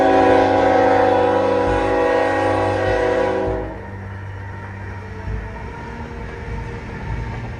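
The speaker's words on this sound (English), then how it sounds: "northbound trains goes much faster" A fast northbound CN train blasts a loud, sustained horn that cuts off sharply after a few seconds, leaving the lower rumble and rattle of the passing cars.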